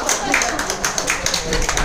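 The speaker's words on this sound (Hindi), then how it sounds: "उनके लिए जोरदार तालियां हो जाए" Audience clapping at a Hindi-language business meeting, greeting new members who joined in 2024; a loud burst of dense hand claps from a crowded room, with voices mixed in.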